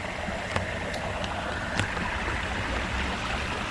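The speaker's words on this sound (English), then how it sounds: "the background noise of the water here" Soft, continuous burble of water flowing outdoors, fairly quiet and steady, with a few faint splashes or clicks scattered through it.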